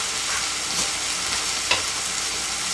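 Shepherd's pie filling cooks in a pan with a close, continuous sizzle and faint stirring scrapes, steady and moderately loud, with no talk.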